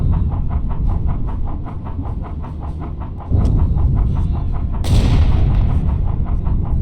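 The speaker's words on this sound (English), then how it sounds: "Not sure where these depth charges are falling." In a U-Boat video game, a steady rhythmic mechanical pulsing runs throughout, broken by two heavy, loud depth charge blasts close together partway through.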